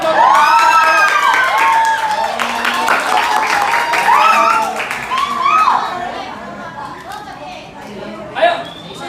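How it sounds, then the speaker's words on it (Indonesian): A class of children claps and cheers for a group presenting, loud mixed applause with excited shouts and high voices, easing off toward the end. "Beri tepuk tangan dong"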